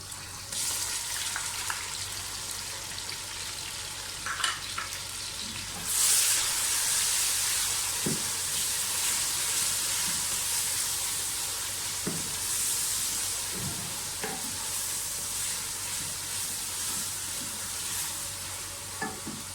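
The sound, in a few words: garlic ginger paste frying with cinnamon sticks and cumin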